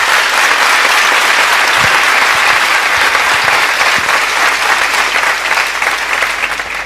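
Applause from a conference audience after a TensorFlow talk at Codemotion Madrid fills the hall, a loud, dense, sustained clapping that holds steady and then eases slightly at the end.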